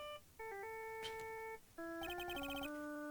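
Phone ringtone from the game Phoenix Wright: Justice For All: a bright synthetic melody of sustained electronic tones that stops briefly, then returns with a second, more layered phrase.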